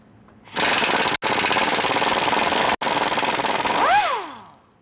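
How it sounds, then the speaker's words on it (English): Pneumatic impact wrench with a 15mm socket spinning off nuts from studs during a 6-inch lift kit install on a 2021 Ford F150, a loud close continuous rattling burst with two brief pauses, ending in a falling whine as it spins down. "take a 15mm socket and remove those nuts"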